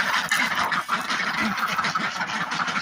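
A flock of ducks quacks and chatters continuously nearby as their feed is poured out, many calls overlapping into a busy, noisy din.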